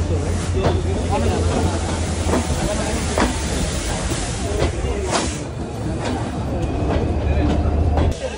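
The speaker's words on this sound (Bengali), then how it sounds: "ওই দেখুন সময় দুপুর 2:21 আমাদের ট্রেন এসে পৌঁছালো হচ্ছে যশোর জংশনে" The Rupashi Bangla Express pulling into Jessore Junction, a loud low rumble and rolling clatter of wheels with hissing and rhythmic clacks, heard from on board with a faint murmur of voices in the background.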